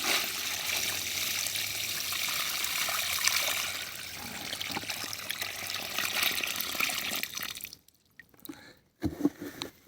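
Water pours steadily into a planting pit dug around a hazelnut bush, a continuous near trickle and splash lasting several seconds before stopping, followed by a few faint drips and outdoor rustles.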